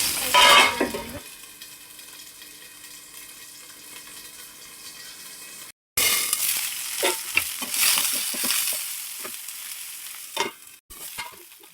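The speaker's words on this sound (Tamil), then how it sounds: "அதுக்கப்புறம் சின்ன வெங்காயத்தை போட்டு வதக்கி விட்டுக்கோங்க." Small shallots sauté in hot oil alongside dried red chilies, a moderate close sizzle broken by spatula stirring and scraping against the pan, with a brief gap midway and no talk.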